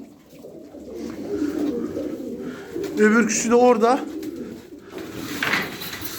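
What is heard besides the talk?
pigeons cooing in a loft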